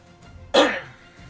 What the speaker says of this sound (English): I have only a little bit of a persistent cough that's just going to last forever.